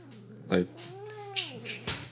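A cat meows loudly as a person lifts her by the scruff of the neck, giving a sharp cry followed by a long, wavering, drawn-out meow and a few shorter bursts, close and clear.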